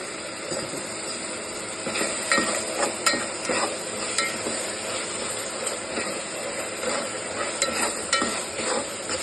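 Ginger garlic paste and green chillies sauté in a pan for vegetable biryani, a steady hissing sizzle broken by repeated clinks and scrapes of a spatula, close and fairly loud, with no voices.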